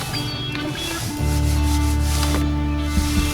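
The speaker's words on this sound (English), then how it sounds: "Cool little tool for cleaning the barrel." Detailing wheel brush scrubbing inside the barrel of a car wheel during a wash, a close, loud rubbing swish that runs continuously with a steady tonal hum underneath.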